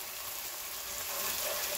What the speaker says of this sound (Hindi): तो भूनना है अच्छी तरह